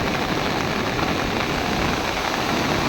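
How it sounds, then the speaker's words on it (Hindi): Heavy monsoon-style rain pours down in Kurchhi village, a close, dense and steady hiss with no break or voices. "आज बहुत जोरदार बारिश हुई है कुर्सी में।"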